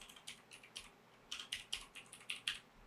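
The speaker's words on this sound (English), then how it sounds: "Let's type John 2000." Rapid typing on a computer keyboard, with a few key clicks in quick bursts and a short pause in the middle, fairly close and clear with no talking.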